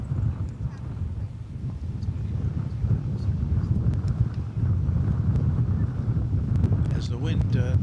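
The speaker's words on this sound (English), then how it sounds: "the wind definitely is picking up now" Strong wind gusts buffeting a microphone outdoors at a Dallas Fort Worth airport plane-spotting spot, a steady low rumbling roar that swells and holds loud throughout, with no voices over it.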